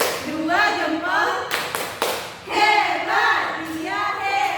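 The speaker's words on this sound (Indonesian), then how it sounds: "Kita kasih tepuk jempol dulu untuk Lia." A classroom of children gives a classmate a rhythmic thumbs clap, with a few bursts of clapping mixed into loud chanting voices that carry through the whole moment.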